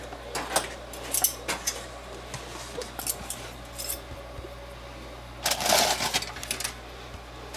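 Light metallic clinks and scrapes ring out in a home kitchen as a pan of tater tots is shifted aside near a turned-off broiler, several sharp taps scattered over a quiet background.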